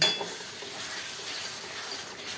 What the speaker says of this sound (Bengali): দিয়ে মশলার সঙ্গে টক দইটা নেড়ে চেড়ে ভালো করে কষিয়ে নেব।